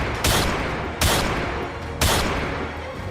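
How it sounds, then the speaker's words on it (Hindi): Gunshots fired at John Lennon outside the Dakota building, three sharp blasts evenly spaced about a second apart, each followed by a short echoing decay. "4 और गोलियां दाग दी,"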